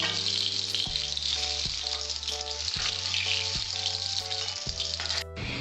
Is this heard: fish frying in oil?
yes